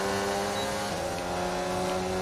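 Formula 1 race car engines in the F1 2019 video game hold a steady high drone with several overlapping engine tones, cars running side by side at constant pitch, with no talk.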